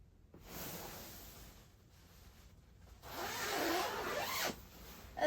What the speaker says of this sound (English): if I want to zip it all the way